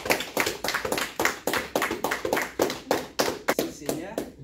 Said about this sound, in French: Est-ce que nous pouvons acclamer pour la parole?